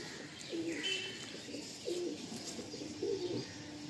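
Giribaj pigeons, red and kagji birds in a loft, give three soft, evenly spaced cooing calls, fairly close, over a quiet background.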